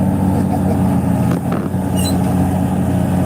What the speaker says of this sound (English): I'm mowing in a New Holland tractor.